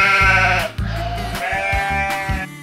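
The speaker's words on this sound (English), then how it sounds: "Sheep." A single sheep bleats loudly and close by, giving a few wavering, nasal calls in quick succession with no other sounds around it.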